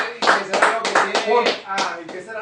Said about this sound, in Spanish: Y dale un aplauso a Cristo.